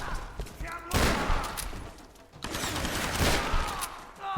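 Gunfire in the Tomb Raider video game, with Tokarev pistols, comes as bursts of loud, close shots clustered in two volleys, with a voice talking faintly underneath.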